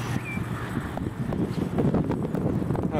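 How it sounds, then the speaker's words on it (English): Wind buffets the microphone in a steady, rumbling gust, with low whooshing noise throughout and no voices. "it's a little windy for this today"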